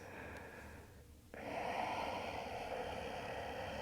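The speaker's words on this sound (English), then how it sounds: "keep breathing that way with that constriction in the throat, in and out through the nose." Soft audible breathing through the nose with a constricted throat during a yoga class, a steady close hiss that pauses briefly and then resumes as a longer, fuller rushing breath.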